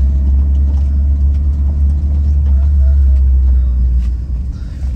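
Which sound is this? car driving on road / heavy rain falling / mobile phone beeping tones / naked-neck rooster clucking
car driving on road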